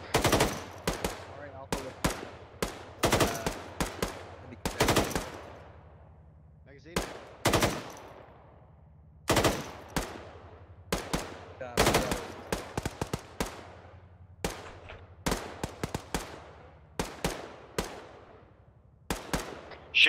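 Suppressive machine gun fire in the military shooter Arma 3, with repeated sharp bursts of automatic shots cracking loudly across the whole stretch, separated by brief pauses, over a low steady rumble.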